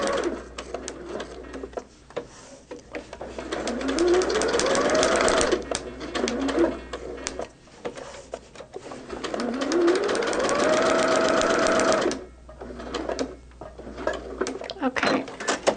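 A sewing machine runs a long basting stitch in bursts, a loud mechanical whirr rising in pitch as it speeds up, stopping briefly between runs, with a pause near the end.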